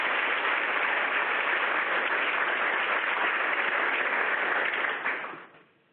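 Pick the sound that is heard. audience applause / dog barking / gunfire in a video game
audience applause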